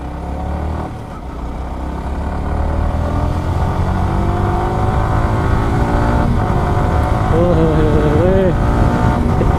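A Yamaha R15 M motorcycle engine drones steadily on a night ride on a road with barricades, as a car rushes past with a loud sustained roar throughout and a brief rising whine near the end.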